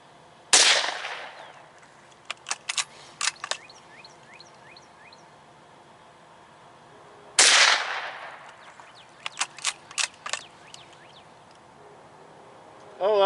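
A Marlin 782 .22 Magnum rifle fires two sharp, loud cracks several seconds apart outdoors, each followed by a scatter of clicks and bolt handling, with a brief voice at the very end.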